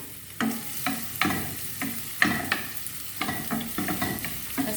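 Onions sautéing in a hot pan: a steady low sizzle runs throughout while a utensil stirs and scrapes in repeated irregular strokes, close and clear, with no talking.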